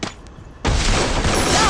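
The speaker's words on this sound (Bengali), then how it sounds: "স্নাইপারের শট আয়ান ভাই" A sniper rifle shot in the shooting game Free Fire bursts out after a quiet moment, then a dense, loud sustained noise follows.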